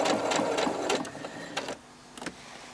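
Sewing machine making a quick locking stitch while quilting a seam, with a short burst of rapid mechanical clatter that stops and then gives a few faint clicks, close and alone.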